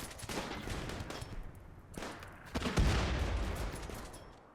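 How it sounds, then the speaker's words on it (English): Enemy gunfire in a video game arrives as bursts of rapid shots, fairly faint and distant, swelling into a louder volley near the end, with no voices over it. "they are still firing at us"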